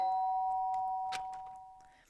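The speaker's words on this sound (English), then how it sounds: "The sharp sound of the doorbell pierced my sleepy haze and pulled me back to the real world." A doorbell in the video game Danganronpa: Trigger Happy Havoc sounds once, a sustained electronic chime that slowly fades away, with faint clicks and noise in the background.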